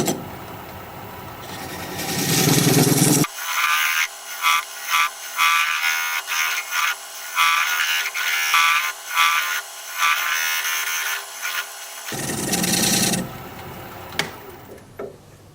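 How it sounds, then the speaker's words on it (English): Recess tool cutting a dovetail into a wooden piece spinning on a lathe, a loud scraping, chattering cut with rapid rhythmic pulses lasting about nine seconds, bracketed by the lathe's motor hum before and after. "I'm going to use my recess tool to create the dovetail on the side here."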